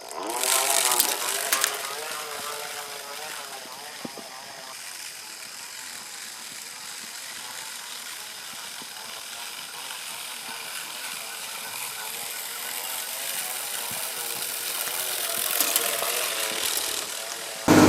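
A hand-cranked seed spreader sows forage oats, giving a continuous close ratcheting whir of gears with a steady rhythm that carries on for a long stretch.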